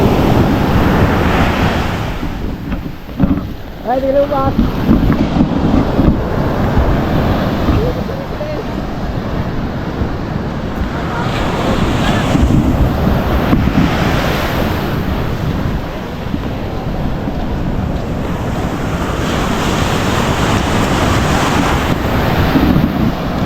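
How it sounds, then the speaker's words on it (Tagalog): Strong ocean waves crash and spray along a crowded shore, loud and continuous with wind buffeting the microphone, while a voice speaks briefly over the surf. "Grabe, lakas-spray ng alon no."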